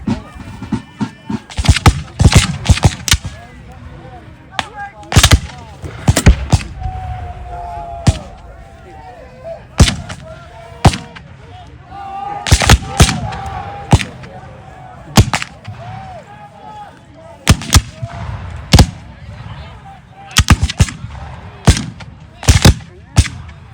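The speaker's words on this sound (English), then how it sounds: "we're firing something big down that way" Bursts of musket gunfire and a big artillery blast ring out at an American Civil War reenactment in Ocala, loud sharp cracks in scattered volleys and clusters, some near and some echoing farther off, with brief talk among spectators.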